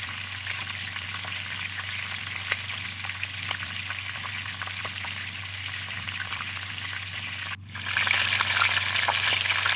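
Capsicum frying in a pan for chow mein, a continuous crackling sizzle that briefly cuts out and then returns louder, with no talking.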